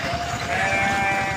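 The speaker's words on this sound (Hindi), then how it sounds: "जब सारे भेड़ अपने बाड़े में जाने लगे" A sheep flock heading into its pen at dusk bleats in a loud, continuous, close chorus of overlapping wavering cries.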